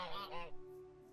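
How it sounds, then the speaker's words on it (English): Geese from a Minecraft mod give a couple of loud, nasal honks in quick succession, close and clear, then a lingering tonal hum with no speech. "Geese."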